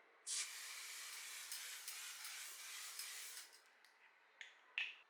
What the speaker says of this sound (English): we're going to setting spray this down